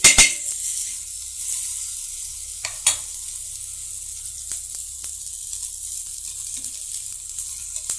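Pav bread toasting in butter on a hot pan gives a soft steady sizzle, with a few sharp scrapes and clinks of a spatula against the pan.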